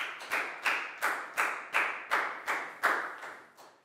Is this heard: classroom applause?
yes